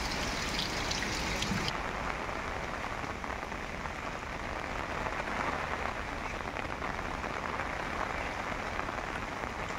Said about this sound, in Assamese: পানী বৰষুণ, নন ষ্টপ বৰষুণ